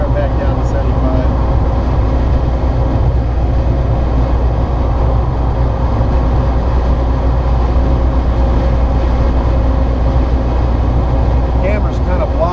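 An electric Karmann Ghia conversion cruises on the freeway at about 77 mph, giving a loud, steady rumble of road and wind noise throughout with faint talk beneath it.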